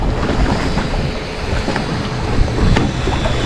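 Speedboat racing across open sea water near Split, Croatia, a loud close roar of engine mixed with rushing water and wind noise, steady and powerful with slight surges.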